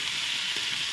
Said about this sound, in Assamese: এয়া মই বিলাহীখিনি দি এতিয়া অলপ দেৰি ভাজি